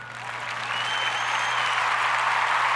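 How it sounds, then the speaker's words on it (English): Applause from a small podcast audience swells into steady clapping that holds loud and even until the end, with no talking over it. "Round of applause for Roc Nation, man."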